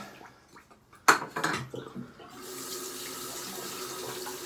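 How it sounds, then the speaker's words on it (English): Water from a tap runs to wet a shaving brush over a shave bowl, first a few clinks and a sharp splash, then a steady, even stream of running water. "we're just gonna wet down the brown brush and start in on creating a little bit of a lather"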